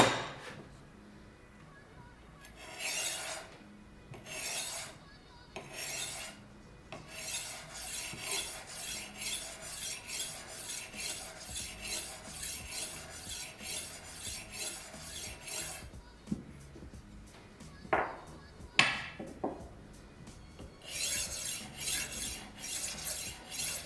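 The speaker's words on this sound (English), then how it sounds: "now we are going to take the ceramic plate, and with that one we are going to take off the burr." A Horl 2 rolling knife sharpener with its ceramic plate is rolled along a knife edge to remove the burr, giving repeated bursts of dry, hissing rasps separated by short pauses, with a few clicks near the end.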